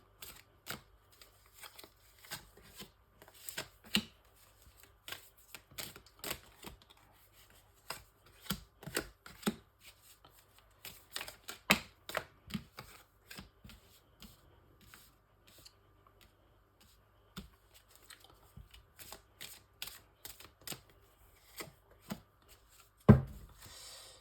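Tarot cards shuffled by hand for a nine-card reading, a quiet close run of irregular riffling and tapping bursts spread through the clip, with no talking.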